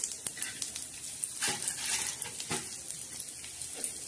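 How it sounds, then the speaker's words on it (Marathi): Garlic frying in a spice masala in a pan sizzles steadily and close, with crackling bursts and occasional stirring knocks and no talk. "आता मैत्रिणींनो, मी त्याच्यात लसूण टाकणार आहोत."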